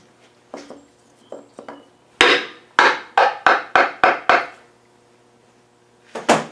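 Sharp hammer blows strike a wooden block to drive out a stuck piston on a small petrol engine, a few light taps followed by a run of seven loud, evenly spaced whacks and two more at the end.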